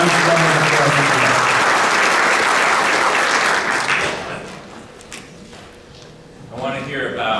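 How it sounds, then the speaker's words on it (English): A crowd claps loudly and continuously at a municipal inauguration ceremony, then eases off after about four seconds while a voice begins speaking near the end. "So please give them a nice round of applause."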